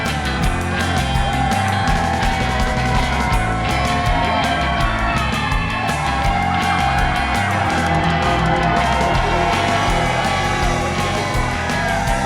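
Large outdoor crowd in Sunbury cheering, yelling and whooping continuously, dense and loud throughout with shouts rising above the roar.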